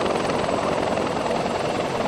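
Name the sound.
helicopter in the video game Arma (JSOC operation)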